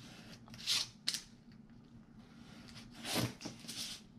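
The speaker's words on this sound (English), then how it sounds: "I am going to just remove the excess paper." Scissors snip away excess paper around a small handmade craft tissue box, giving a few crisp cuts with quiet pauses between them against a steady low hum.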